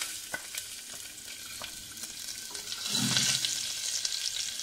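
Chopped garlic and hing crackle in hot oil while being stirred for a chana dal stuffed paratha filling, a steady soft sizzle that swells louder partway through, with faint clinks of the spoon.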